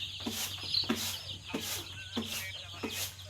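Chickens being vaccinated give repeated short clucks in a loose rhythm, close by over a low steady hum, with no talking.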